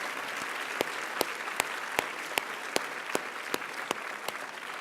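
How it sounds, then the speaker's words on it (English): Audience applause at a Washington D.C. gala honouring Director Mayorkas, a steady sustained wash of clapping from a large crowd with a few sharper individual claps standing out at regular intervals. "Director Mayorkas deserves another round of applause"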